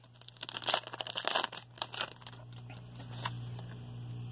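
A Pokemon Vivid Voltage booster pack is torn open and its foil wrapper crinkled, sharp close tearing and crackling bursts over the first two seconds that fade to a quieter low hum.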